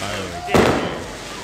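A big firework bursts close by in Chinatown, a single sharp loud blast over voices and crowd noise, with a short rumbling tail.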